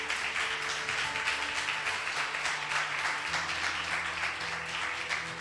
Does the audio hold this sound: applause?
yes